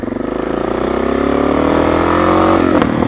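A car engine revs hard as it is driven fast, its droning tone climbing steadily in pitch before easing off near the end. The sound is loud and close, with no talking.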